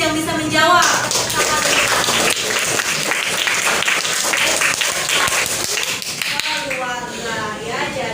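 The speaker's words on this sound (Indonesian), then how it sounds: "kita beri tepuk tangan dulu untuk Adit yang bisa menjawab" Classroom applause for a student who answered correctly, loud steady clapping from the children mixed with voices and chatter throughout.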